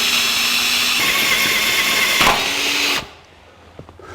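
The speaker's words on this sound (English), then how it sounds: "I have a 1 1/4 inch hole saw here that I'm going to try to use to make these" A 1 1/4 inch hole saw bores through metal tubing for a transmission cooler mount on a 1949 Chevrolet gasser, a loud steady grinding drill whine lasting about three seconds before cutting off abruptly into near silence.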